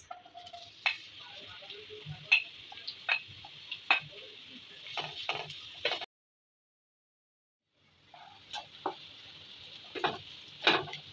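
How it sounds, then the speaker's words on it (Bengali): Onions frying in cooking oil for homemade chicken patties, with soft sizzling and sharp intermittent crackles and pops close by, broken by a brief silent gap midway. "আমি প্রথমে কুকিং অয়েল দিয়ে দিচ্ছি দিয়ে দেবো পেঁয়াজ"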